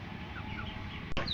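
Village chickens cluck steadily while feeding, a close, busy flock with a brief sharper call near the end.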